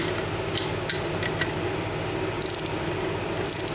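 Torque wrench clicking while tightening engine case bolts on a Yamaha Banshee during crank installation, several sharp metallic clicks scattered over a faint workshop background, with a quick cluster of light ratcheting ticks near the end.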